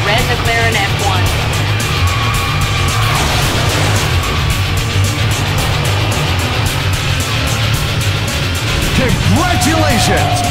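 Red McLaren F1 supercar in a high-speed police pursuit in the 2002 PS2 racing game Need for Speed: Hot Pursuit 2, a steady loud engine roar with occasional tire squeals and whooshes, and brief voices over it.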